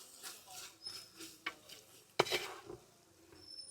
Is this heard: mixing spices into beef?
yes